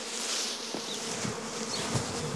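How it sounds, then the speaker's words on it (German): Honeybees from hives on a farm in the Westerwald hum in a dense, steady buzz, close by and continuous, with faint knocks and rustles underneath. "Nun hat sie 3 Bienenvölker."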